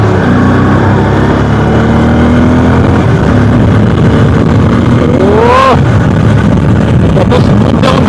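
Bajaj Pulsar N250 motorcycle pulling away gently in first gear on a highway, a loud steady engine drone under wind rush that rises in pitch partway through, close to the rider.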